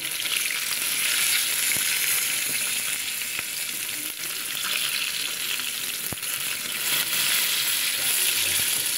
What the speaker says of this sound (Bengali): এই মাছটা খুব কড়া করে ভাজতে হবে